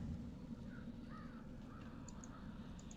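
A crow caws in a video game, a few short harsh calls over a quiet, low ambient background.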